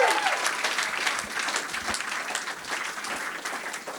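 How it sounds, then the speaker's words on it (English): An audience applauds at an arts gallery commemoration event in Baton Rouge, a steady wash of many hands clapping at moderate distance, continuous for the whole stretch with no voices over it. "Ladies and gentlemen, please, a big round of applause for these individuals."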